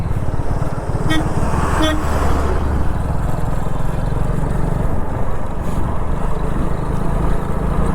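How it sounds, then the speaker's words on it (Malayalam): A motor vehicle on a winding hill road near Munnar gives two short horn toots early on, over a steady loud engine and road rumble that carries through the rest. "വണ്ടി വരുന്നുണ്ട്"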